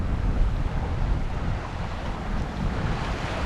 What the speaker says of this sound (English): a very good breeze right behind me